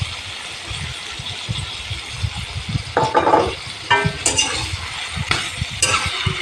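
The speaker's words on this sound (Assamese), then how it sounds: "অলপ টাইম ভাজি থাকিম" Duck meat sizzling with spices in a pan, a steady crackling fry under repeated scrapes and clinks of a spoon stirring against the metal, close and fairly loud.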